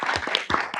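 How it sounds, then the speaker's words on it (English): A short burst of audience applause for conference panelists, with several loud close claps ringing out in an uneven flurry that lasts under a second. "I just want to give, again, the panelists another round of applause."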